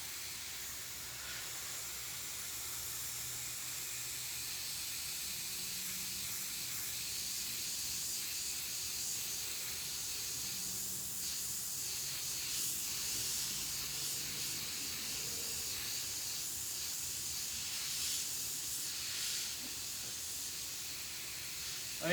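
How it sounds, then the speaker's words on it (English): Airbrush gun at about 30 psi spraying paint onto a shirt, a steady close hiss of air that runs unbroken throughout, with slight swells in intensity and no talk. "I am at about 30 psi on my airbrush gun with my Crazything paint."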